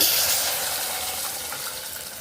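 Water pours into a pressure cooker holding cooked dal and large tomato pieces for Andhra-style pappu charu, a steady close splashing rush that starts loud and eases slightly, with no talk over it.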